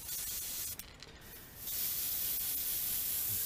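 Airbrush sprays clear coat over a rainbow trout pattern crankbait in a steady close hiss, broken briefly by a short pause before the spray resumes at full strength, with no talking.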